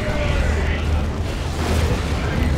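A Predator tank is destroyed by lascannon fire in a Dawn of War II: Retribution real-time strategy battle, heard as a dense, continuous rumble of booming explosions and battle noise throughout.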